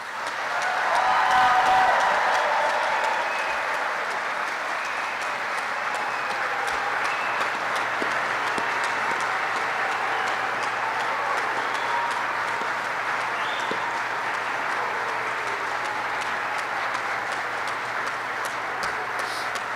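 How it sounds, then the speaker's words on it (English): An audience at a U.S. Army flight school graduation applauds the new aviation graduates, a broad, even wash of many hands clapping that swells early and then holds steady for nearly twenty seconds, somewhat distant in a large hall. "Please join me in a round of applause for the Army's newest aviation warfighters."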